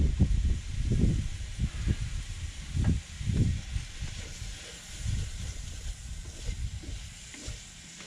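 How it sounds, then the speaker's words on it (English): Sauce in a pan on a Trangia 27 camping stove sizzles and hisses softly with low crackles and bubbling as it steams, close by, with no talking. "Sauce is starting to steam, but it's not boiling."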